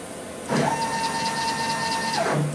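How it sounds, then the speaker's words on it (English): A CNC machine's spindle head traverses into position, a steady motor whine holding for about two seconds with a clear start and stop, close and moderately loud with no talk over it. "what I'm going to do is maneuver the head of the spindle"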